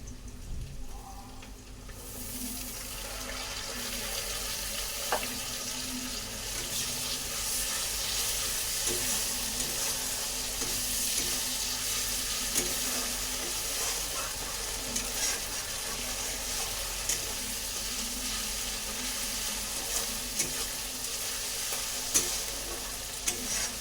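Ginger garlic paste frying with already fried onions in a pan, giving a steady, close sizzle with occasional stirring clinks throughout, no voices.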